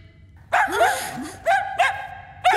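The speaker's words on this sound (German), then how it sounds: "Der Hund hat was gefunden." A dog in an animated series barks close and loud, about four sharp barks with yelping rises coming in quick, uneven succession.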